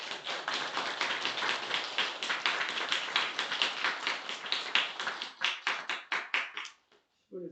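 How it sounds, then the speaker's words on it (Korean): A church congregation claps together during a Thanksgiving worship service, rhythmic unison clapping close and fairly loud that grows sparser and slows into a few final claps before stopping. "감사의 박수 한번 드립시다."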